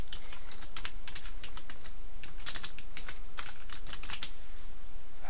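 Fingers tap steadily on a computer keyboard in quick, uneven bursts of clicks, close and fairly soft, while text is typed into PowerPoint 2010. No voices are heard.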